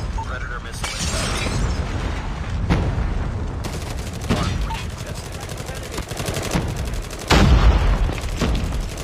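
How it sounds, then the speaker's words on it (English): A Predator missile explosion in Call of Duty Mobile: a sharp blast with a shattering crack over constant gunfire and booms, loud and dense, with game announcer voices over the battle. "Predator missile inbound."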